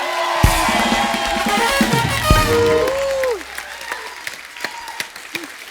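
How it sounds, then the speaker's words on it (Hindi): Studio audience applauds on a Hindi comedy show, loud dense clapping with some cheering, over music and a voice early on, then thinning into scattered claps. "जोरदार तालियां हो जाए एक बार।"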